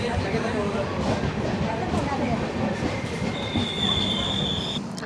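The 16332 Express pulling into Tirupattur station, a dense rumble of rolling coaches with a thin high wheel squeal rising near the end, steady and close, with a voice speaking over it.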